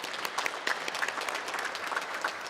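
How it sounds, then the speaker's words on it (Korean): A church congregation claps together in a burst of warm, dense applause, many hands close and loud, steady throughout with no voices standing out. "우리 함께 영광의 박수를, 감사의 박수를 또한 보내셨으면 좋겠습니다"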